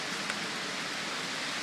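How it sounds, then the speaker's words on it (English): Steady rain during Hurricane Sandy, a constant dense hiss of falling water with no breaks, moderately distant and even throughout. "Constant, steady flow of rain all day."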